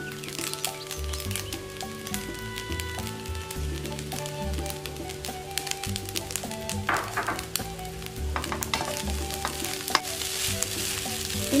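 Petai stink beans, drained and patted dry, frying in hot oil in a pan for spicy fried yellow rice, giving a loud continuous sizzle with crackling pops over a background musical tone.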